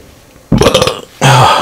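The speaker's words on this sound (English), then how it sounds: "Oh, man, the burps." Two loud, close burps, a rough gurgling one followed after a short pause by a shorter, deeper one, with no talking around them.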